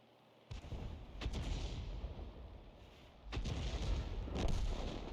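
Heavy artillery from a Hummel self-propelled gun in a video game firing armor-piercing rounds: two deep, booming blasts a few seconds apart, each followed by a long rumbling tail, loud and close with no talking.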